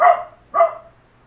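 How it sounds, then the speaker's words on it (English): A dog barks twice nearby, two sharp, loud woofs about half a second apart, the second trailing off into quiet. "there's dogs barking"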